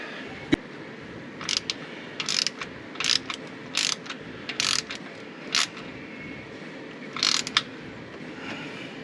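A socket wrench ratchets on a fitting while a temperature sensor is fitted during an electric fan install on a car, sounding as short bursts of rapid clicking, about a dozen spaced across the clip after one sharp knock.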